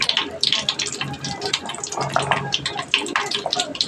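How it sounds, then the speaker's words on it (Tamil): Curry leaves tempered in hot oil for a curry-leaf kuzhambu, giving a loud, continuous hissing sizzle with crackling spits throughout. "அடுத்து கருவேப்பிலை போட்டு தாளிச்சுக்குவோம்"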